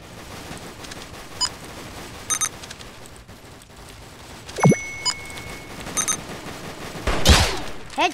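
Gunfire in a Roblox shooter, scattered short bursts and single cracks spread across the stretch, with one louder, closer burst near the end, no talking.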